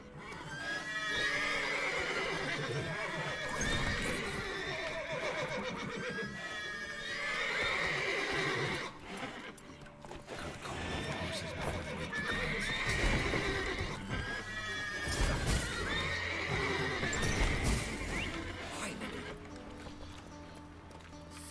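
Several horses in The Witcher 3 neigh and whinny repeatedly in bursts, with hooves clip-clopping underneath throughout, close and fairly loud.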